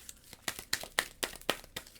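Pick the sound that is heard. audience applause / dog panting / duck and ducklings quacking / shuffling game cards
shuffling game cards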